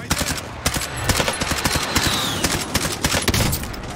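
Rapid gunfire in Call of Duty: Modern Warfare Warzone, dense bursts of sharp automatic shots crackling close by with a few more distant reports, continuous and loud for the whole stretch.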